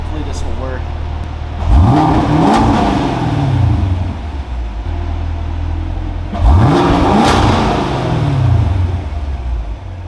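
A car with a Valvetronic Designs exhaust, valves closed, revved twice from idle, each burst a rising then falling engine roar over a steady rumble, close by and loud.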